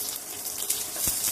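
Onions go into hot oil and fry with a broad, steady sizzle and crackle that fills the whole short stretch, close and fairly loud.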